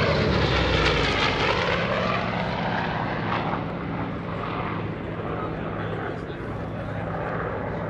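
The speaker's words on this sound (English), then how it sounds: "I just love the sound of that R2800. It just clatters as it goes off in the distance." A Corsair's Pratt & Whitney R-2800 radial engine drones and clatters as the propeller plane passes at an airshow, its roar slowly fading into the distance.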